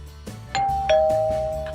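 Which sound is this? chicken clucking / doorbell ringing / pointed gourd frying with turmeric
doorbell ringing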